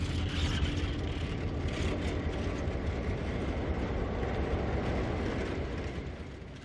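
A Santa Fe Alco PA diesel locomotive train from 1954 rumbles by in a loud, steady, broadband roar with mechanical rattle, holding close and even before easing slightly at the end.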